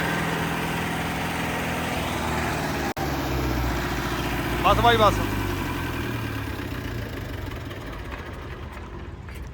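Mahindra 475 tractor engine idling steadily and then revved briefly, a loud continuous close rumble with a short surge midway, while someone talks over it.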